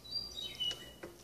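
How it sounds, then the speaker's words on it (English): Birds chirping outdoors, a few thin high tweets and short whistled calls at a distance, faint over a soft background hiss, with no talking. "Hear the birds?"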